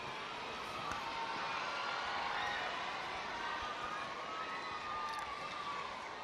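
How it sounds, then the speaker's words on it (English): Arena crowd at a gymnastics World Cup in Birmingham murmuring before a home gymnast's beam routine, a faint, steady hum of distant voices with a few soft knocks. "we can hear the crowd in the background getting ready for their home favourite"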